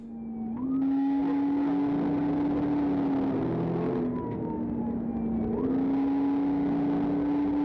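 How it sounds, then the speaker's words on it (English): A police car's engine roars under hard acceleration during a pursuit that runs through residential yards, loud and sustained with pitch climbing, dropping back and rising again, alongside a faint higher whine. "Cop car sound like a V8"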